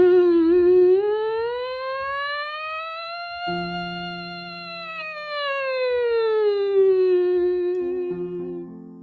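A singer's voice imitates a siren during vocal training, one continuous smooth tone gliding up, holding high, then sliding back down, loud and close, with faint background voices joining briefly.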